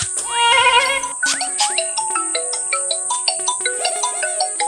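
A phone ringtone plays a bright, bouncing electronic melody with rising tones, loud and close, running continuously with no voices.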